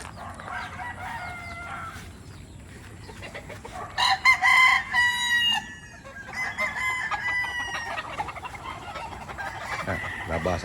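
Gamefowl stags and roosters tethered outdoors crow loudly and repeatedly, several birds overlapping with clucking in between, close and continuous over a faint background murmur.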